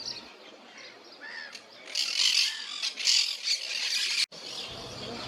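Chilean flamingos call over shallow brackish water near Guaminí, Argentina: a cluster of nasal, honking calls, fairly close and swelling louder midway before cutting off abruptly.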